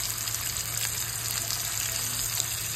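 Mutton chop sautéing in a pan sizzles steadily and continuously at close range, with a faint low hum underneath.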